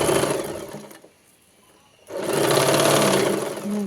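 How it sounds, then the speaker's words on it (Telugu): A sewing machine stitches a young girl's frock, running steadily for about a second, pausing to near silence, then starting up again and whirring continuously at close range. "స్టిచ్ చేసుకుంటూ రావాలి, ఫోల్డింగ్ చేసుకుంటూ"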